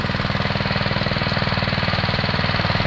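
A Husqvarna TF 230 tiller engine runs nearby with a loud, fast, even chugging beat that holds steady throughout, with no voices.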